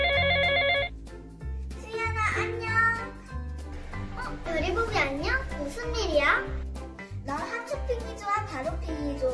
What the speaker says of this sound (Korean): 그러면 먼저 내 친구한테 먼저 전화해보자.